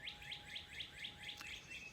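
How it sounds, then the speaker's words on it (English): Birds chirp outside a window in a quick repeating series of bright, high tweets, faint and steady, with light background hiss and no talking. "Can you hear all the birds?"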